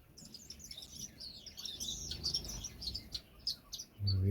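Bright, high chirps and short tweets from aviary birds run steadily at moderate volume over a soft background rumble. A brief low thump sounds right at the end.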